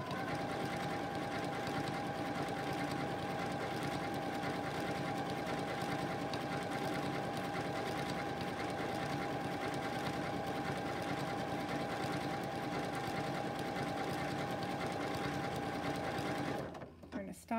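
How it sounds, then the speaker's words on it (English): A Continental M17 sewing machine runs steadily, stitching out decorative stitches with a continuous close mechanical whir for most of the stretch before it slows and stops near the end. "All right, we're just going to stitch this out"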